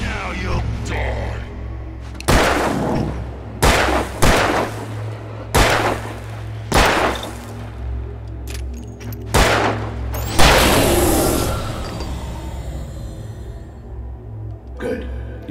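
Gunshots in the video game Alan Wake Remastered: about half a dozen loud, sharp cracks spaced a second or two apart, the last one followed by a longer rumbling blast, over a low droning backdrop.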